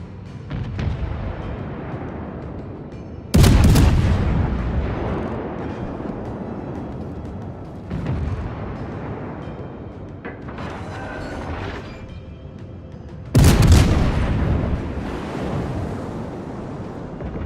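Naval artillery fires in World of Warships, two loud booming salvos roughly ten seconds apart, each followed by a long rumbling decay, with lighter muffled firing between them and no talk.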